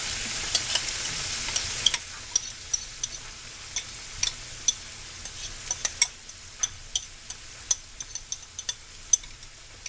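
Sauce sizzling in a hot pan of stir-fried Korean-style bok choy, a soft continuous frying hiss broken by sharp utensil clicks and scrapes as it is stirred, with the sizzle quieting after about two seconds.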